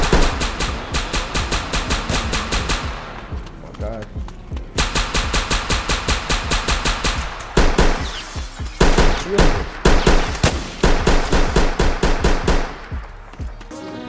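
Rapid automatic gunfire in a Roblox hood game set in the South Bronx, loud repeated bursts of evenly spaced shots separated by short pauses, with voices talking over parts of it.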